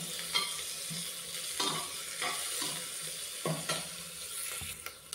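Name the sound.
frying crushed ginger, garlic and green chillies in pan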